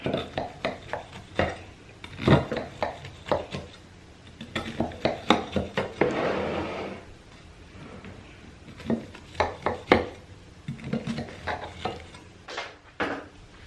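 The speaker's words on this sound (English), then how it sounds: "I just take a spatula and I cut it into cubes" A spatula cuts a pan of cornbread into cubes while preparing seafood dressing, giving a run of sharp scraping and tapping strikes against the pan that come in bursts with short pauses between them.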